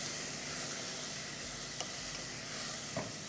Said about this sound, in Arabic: اول ما حطيت اللحمة على طول بدأت تعمل صوت